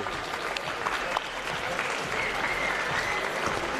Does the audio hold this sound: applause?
yes